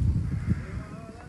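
Sheep bleat from animal sheds on a farm villa property, a few close, low, rough calls in quick succession over steady background noise.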